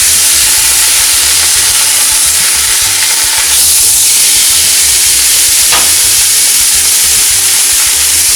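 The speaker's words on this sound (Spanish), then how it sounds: "Vamos a poner la carne a que se ase." Al pastor pork and sliced pineapple sizzle steadily on a hot griddle, a loud, close, continuous frying hiss with a brief surge of steam partway through.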